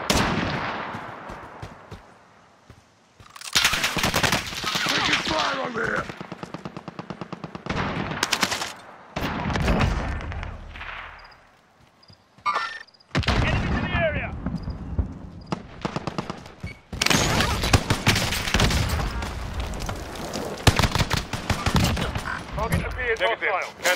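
Heavy gunfire from a Call of Duty Modern Warfare match, with dense bursts of automatic fire and scattered single shots coming loud and close across the whole stretch, broken by brief pauses.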